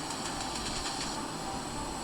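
Train in the video game Free Fire, a steady rolling rumble with hiss and faint rhythmic clacks, loud and continuous with no talk.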